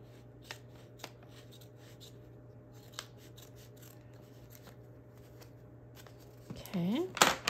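Small scissors snip paper for a traveler's notebook-style travel journal, a few faint, sparse cuts over a quiet room tone, ending in a louder brief rustle and scrape of paper.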